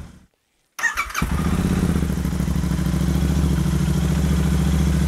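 A Royal Enfield motorcycle fitted with a Zard silencer and dB killers starts up after a moment of silence, settling into a loud, steady, close idle with a throbbing, clattering exhaust beat.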